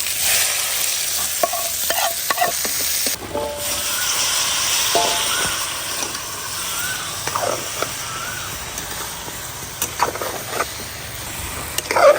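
Rupa fish frying in oil in a pan, a steady loud sizzle broken by clanking stirs and scrapes of a utensil throughout, with no talking.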